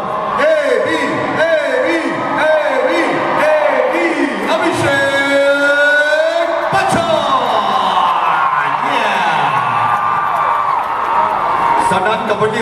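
A large crowd at a Bollywood and Punjabi concert in New Jersey screams, whoops and cheers loudly and continuously, filling the space with sustained roaring.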